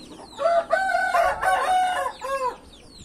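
A rooster crows close by, one loud drawn-out cock-a-doodle-doo with a shorter tail at the end, alone without talk.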